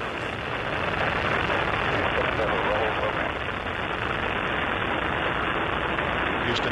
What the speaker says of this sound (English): 4, 2, 1, and liftoff of Space Shuttle Endeavour